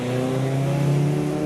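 A car pulling away up a hill at a retro car gathering, its engine loud and close with a steady droning tone that rises slightly as it accelerates, no speech.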